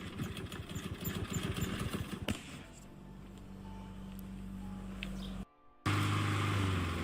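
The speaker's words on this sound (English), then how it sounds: "Is that a gas lawnmower?" A small gas lawnmower engine runs in a steady, rough idle drone. It shifts to a lower, smoother tone partway through, cuts out briefly, then returns louder and close by.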